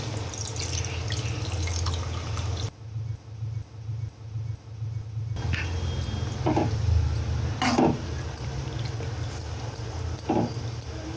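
Water splashes and runs into a pan of kheema, one glassful, followed by dripping and small clinks, with a dog whimpering faintly in the background.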